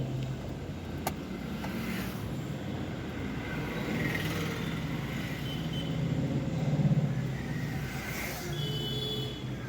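A car creeping forward inch by inch on a road under careful clutch control, a steady low engine hum with faint road noise throughout, swelling slightly near the end.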